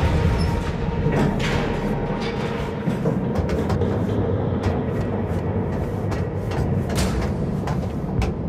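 A metro train in Cyberpunk 2077 rumbles past, a steady dense rolling roar with rattling clacks and brief bright squeals running throughout, loud and close, with no talk.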